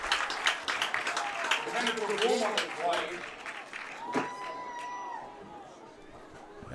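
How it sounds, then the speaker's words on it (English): A crowd at a high school football game in the fourth quarter, Stratford at Wittenberg-Birnamwood, cheering and clapping steadily at moderate distance, with a commentator speaking over it and a whistle sounding near the end. "As the crowd cheering them on"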